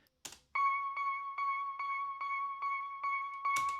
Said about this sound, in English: The second thing I wanted to show you was the high pluck.